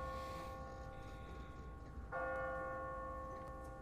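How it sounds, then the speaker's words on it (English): An automatic church bell on a timer rings out, a single clear struck tone with a long humming decay and a second strike partway through, heard at a distance over faint background noise. "What kind of church bell goes off at 20 past the hour?"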